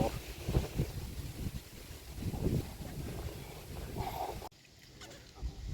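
Broadband wind roars steadily across an outdoor site where concrete posts are being set, gusting and buffeting the microphone before suddenly dropping to a quieter hiss near the end.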